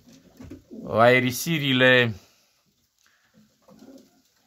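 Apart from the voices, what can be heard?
pigeons cooing in a cage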